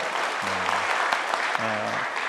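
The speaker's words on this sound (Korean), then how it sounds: "다시 한번 환영의 박수 하겠습니다." A congregation applauding in welcome during a Sunday church service, a steady, loud wash of clapping from many hands throughout, with a brief low tone sounding twice beneath it.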